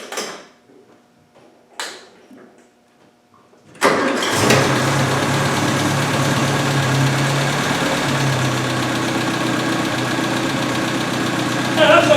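A Land Rover Series 1 engine on half choke in a shop cranks and fires after a few faint clicks, then settles into a steady, loud, slightly uneven cold idle that continues without voices.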